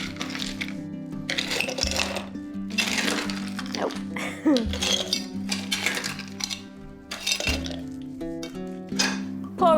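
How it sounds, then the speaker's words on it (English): Ice cubes clink and rattle into two glass jars in repeated bursts while making a cocktail, with kitchen clatter and brief talk in between. "First, we'll fill the 2 jars with ice."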